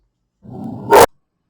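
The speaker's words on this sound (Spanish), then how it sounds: "escucharon a mi perrito Blackie." A small dog lets out a low growl that breaks into one sharp, loud bark close by, then silence.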